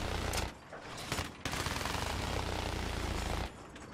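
A heavy machine gun on an attack helicopter fires in Battlefield 4, rattling in dense sustained bursts with brief gaps. It sounds loud and close over a rumbling engine background.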